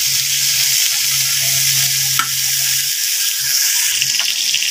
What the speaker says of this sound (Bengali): এখন আমি এগুলো হালকা একটু ভেজে নেব।